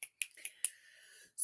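Finger snapping used as applause at a poetry café: four sharp, bright snaps spaced about a quarter second apart, followed by a soft lingering hiss and one more snap at the end, close and fairly quiet.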